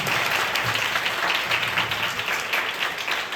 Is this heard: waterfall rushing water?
no